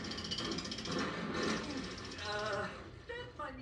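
A jackhammer in the Lego Jurassic World video game rattles in a rapid, continuous mechanical burst at moderate loudness, mixed with game effects and a voice talking over it.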